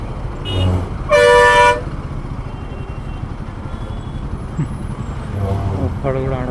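Heavy road traffic with buses honking: several loud horn blasts, one long and harmonic, over a steady engine rumble, heard close from a moving ride amid the traffic.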